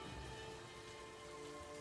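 Steady heavy rain pours down without a break, a dense hiss running evenly from start to finish with no voices.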